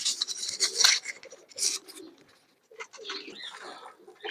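Young pigeon squabs, newly brought home and trying to get into their loft, give soft rasping coos and calls in short bursts, fairly close, with a brief quiet gap midway.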